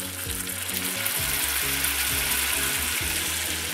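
Rice for a habanero risotto, just topped with a splash of warm broth, bubbles and sizzles in the pan, with a spoon scraping in repeated steady strokes, close and continuous with no talking.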